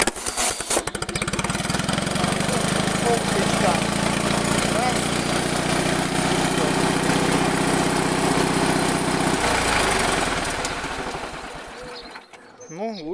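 A small BMW micro tractor engine is started and runs at a steady, buzzy idle for about ten seconds before dying away, close and loud.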